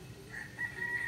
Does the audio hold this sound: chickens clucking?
yes